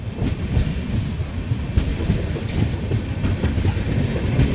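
An LHB-rake Kanchankanya Express passenger train runs steadily on the rails, heard from inside the coach as a continuous loud rumble with rhythmic wheel clicks and no talk.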